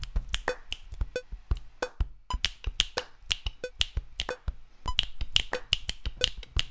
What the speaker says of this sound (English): Now for the snaps.